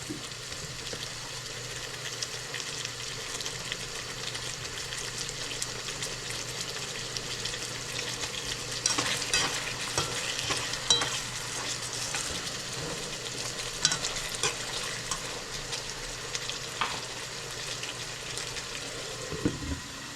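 Onions and chicken fry and sizzle in a pan for a long stretch, a continuous close hiss broken by scattered scraping and clinking as they are stirred, with no voices over it.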